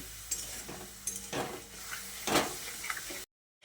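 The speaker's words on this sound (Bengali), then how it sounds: "এই দইয়ের মিশ্রণটাকে ভালোভাবে ফোড়নের সঙ্গে কষিয়ে নিচ্ছি।" A yogurt mixture stirred with tempering spices in a pan for potol kaurra, giving several scraping stir strokes over a soft sizzle, close and fairly quiet, with no voices.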